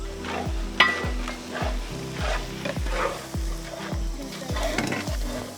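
Spices sizzle and fry in a pan for butter mushroom fried rice, a steady close crackle with repeated rhythmic scraping strokes of a stirring spoon and a brief metallic clink.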